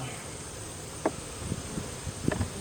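Honey bees buzz faintly around an open hive during a fall inspection, with a few brief nearby wingbeat passes rising over a soft steady background.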